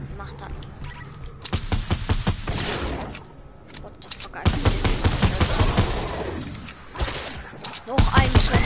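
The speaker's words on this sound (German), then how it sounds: "Noch ein Schuss von hinten." Rapid gunfire rattles through a Fortnite match in bursts of automatic shots and single cracks, loud and close, with quieter gaps between volleys.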